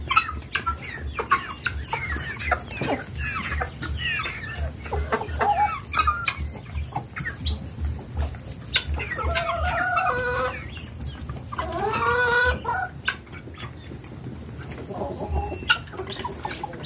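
Chickens and guinea fowl in a free-range poultry run cluck, squawk and call over and under one another, a busy flock close by with loud overlapping bursts throughout.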